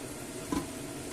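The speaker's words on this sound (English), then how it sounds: "And I'm going to give it a nice stir." Pork ribs cooked in white wine sizzle steadily in a pan while a brief scrape of stirring cuts through midway, close and low in level.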